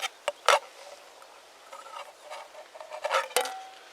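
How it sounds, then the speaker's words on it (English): Boiled eggs spun on a hard surface outdoors, a faint rolling rattle broken by a few sharper knocks and taps, close up, with no talking. "A boiled egg will spin."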